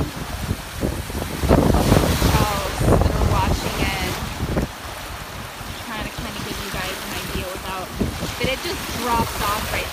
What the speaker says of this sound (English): How the waves are going every direction.